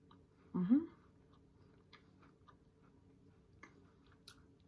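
Someone bites into homemade Christmas cookies with one loud, close crunch, then soft chewing and small mouth sounds continue in a quiet room.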